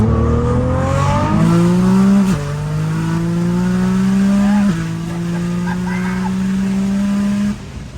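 A 1,700HP Nissan GTR accelerates hard and loud from close by, its engine note climbing through two gear shifts with brief dips between pulls, then easing off near the end.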